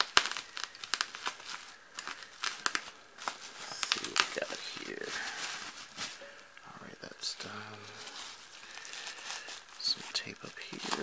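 A trusty knife slicing through packing tape on a comic book shipping box, with crinkly tearing and crackling scrapes in short uneven bursts, close up, amid handling noises and some talking.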